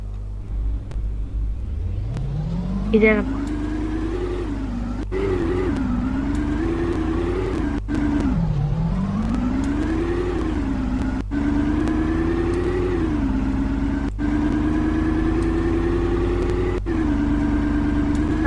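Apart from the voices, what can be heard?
car driving off in a role-play video game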